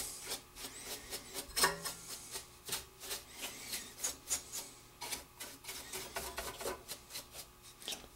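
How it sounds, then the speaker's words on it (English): A small paintbrush sweeps dust and debris off an RCA Selectavision CED videodisc player, giving a series of quick, close, bristly rubbing strokes in an uneven rhythm, with no voices. "in my toolbox I have a small paintbrush, and you can actually brush all that dust and debris off"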